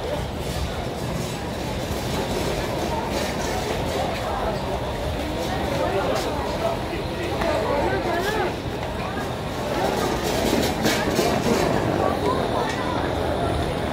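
The Tamralipta Express pulls into Howrah station with a steady, continuous rumble of the moving train and a constant murmur of crowd babble throughout.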